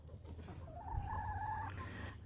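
A broody mother hen sits on a clutch of eggs and gives a soft, low, drawn-out grumbling call lasting about a second, near and fairly quiet.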